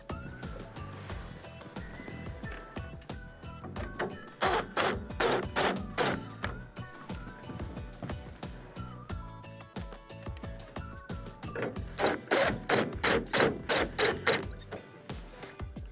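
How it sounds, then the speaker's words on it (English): Number 2 Phillips screws being driven to secure a microwave grill on a Whirlpool or Maytag over-range unit, heard as close clicking and ratcheting in two loud rapid runs among softer handling noises. "we can go ahead and secure the grill with the 2 number 2 Phillips screws we removed earlier"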